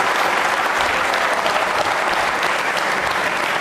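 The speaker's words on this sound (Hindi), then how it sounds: "वह तालियां बजाइए अपने लिए आप जोरदार तरीके से" Loud, dense applause from a studio audience on a televised devotional quiz programme, steady and sustained throughout with no voices over it.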